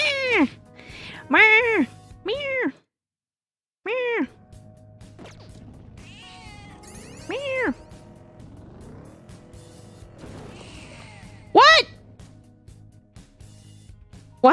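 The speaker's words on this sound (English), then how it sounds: "I just realized you can make him meow." A cartoonish cat character in a video game gives several short meows in quick succession, then more after a pause, over game music and sound effects; a voice talks in between.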